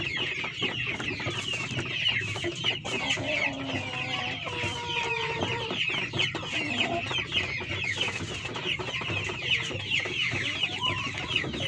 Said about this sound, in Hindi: माशाल्लाह जी बहुत खूबसूरत मुर्गा है